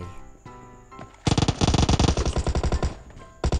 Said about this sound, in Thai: เขายิงเป็นยับเลยนะครับข้างล่าง